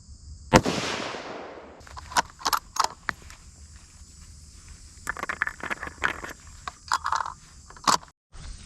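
Ruger American Go Wild rifle in 350 Legend firing at an outdoor range, one sharp loud report near the start followed by quieter clicks and handling noises.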